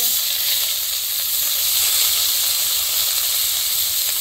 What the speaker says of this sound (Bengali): এখন আমি পেঁয়াজ রসুন বাটা একসাথে দিয়ে দিব।